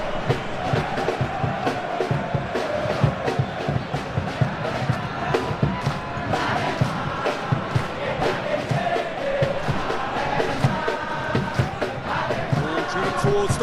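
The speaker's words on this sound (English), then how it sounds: "the crowd clearly like what they just saw" A stadium crowd in a PES football video game roars continuously, a dense, loud wash of cheering and chanting, with a commentator's voice heard over it.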